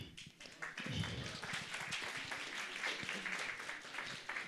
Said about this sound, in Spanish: Aplausos, ¿no?